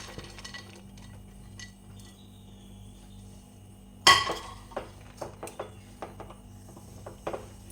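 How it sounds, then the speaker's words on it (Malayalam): Dry fruits for a plum cake are stirred in a pan, with a sharp spoon clink against the metal followed by a scatter of lighter scrapes and taps over a faint steady hum. "ഇതൊന്ന് കുറുകി വരുന്നവരെ നമുക്കിതൊന്ന് ഇളക്കി കൊടുക്കാം"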